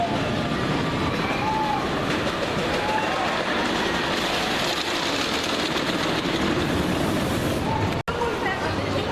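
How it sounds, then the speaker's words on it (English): A family wooden roller coaster, Tomahawk at PortAventura, rattles and rumbles steadily throughout a ride, with a continuous clattering roar and a brief sharp knock near the end. "Tomahawk's quite a good family wooden coaster there."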